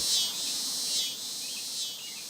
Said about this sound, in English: The cicada song is not at all subtle. It's raspy, even rude.